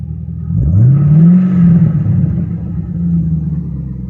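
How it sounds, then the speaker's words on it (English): A black 2015 Chevy Caprice V8 revving in park: a deep, loud rumble climbs in pitch, holds, then settles back to a steady idle, with no voices. "V8 sounds way better than the 6 cylinders"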